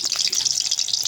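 Green chillies hit hot oil left over from frying fritters, giving a bright, steady, close-up sizzle with a light crackle.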